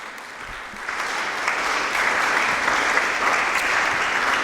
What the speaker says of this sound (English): I think that deserves an amen and a round of applause.